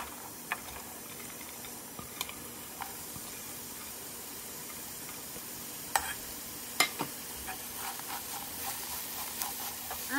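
Bell pepper and shredded boiled meat are stir-fried in a pan, giving a soft, steady sizzle broken by occasional light scrapes and taps of the spatula against the pan; no voices.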